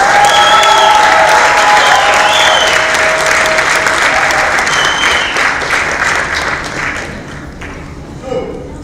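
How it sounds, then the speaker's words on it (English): Audience applause and cheering at the EBS 2024 graduation ceremony in Dubai as a graduate walks on stage, dense loud clapping with bright whistles that slowly thins and fades toward the end. "Let us applaud her as she comes on stage."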